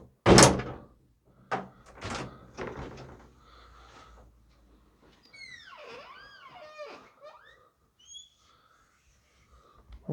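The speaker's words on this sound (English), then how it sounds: "So the door's a bit stiff. Just make sure you give it a good turn." The stiff double doors of St Peter's Church, South Weald, Essex, are worked open: a loud latch clunk and knocks, then a long creaking, groaning hinge squeal with further clunks, close by in a quiet interior.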